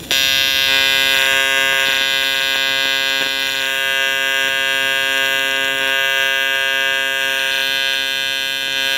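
Welding with filler rod produces a loud, continuous electrical buzz and hum with a steady tone, close up and alone, with faint crackles throughout.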